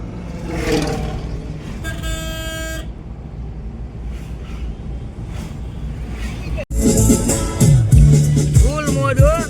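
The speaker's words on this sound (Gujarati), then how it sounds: "આપણી ગાડી ઉપડી ગઈ છે" An Eeco car pulls away on the drive out to a farmhouse, its engine running steadily close by with short horn toots. People talk over it, and music with singing comes in toward the end.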